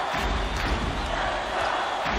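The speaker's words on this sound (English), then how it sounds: "Listen to the crowd, Vern." A basketball arena crowd roars in the video game College Basketball 2K8, a dense, continuous wash of cheering and shouting that stays loud throughout.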